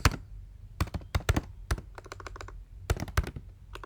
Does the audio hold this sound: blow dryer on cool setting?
no